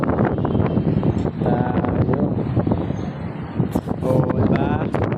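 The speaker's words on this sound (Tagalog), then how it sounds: "Mahangin dito ay sa taas." Gusty wind roaring across the microphone, with people talking intermittently beneath the blustery rush.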